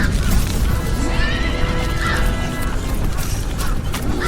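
Horses hauling sinking carts whinny and neigh repeatedly, with a loud, dense rumble of hooves and movement filling the scene throughout, no talking.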